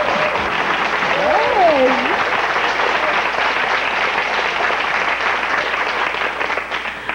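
Studio audience at a 1987 French-language television game show applauding loudly and steadily, while a presenter's voice briefly rises over the clapping near the start.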